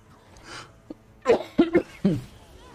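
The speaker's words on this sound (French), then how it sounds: "Désolé pour cette toux que j'ai en ce moment." A person gives a short series of coughs, three or four close, fairly loud bursts after some quieter breathing, with faint game sounds underneath.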